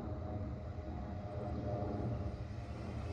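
A Supermarine Spitfire rumbles on the runway during a display at Stonham Barns, its engine a steady, low, droning roar held at a fairly even level throughout.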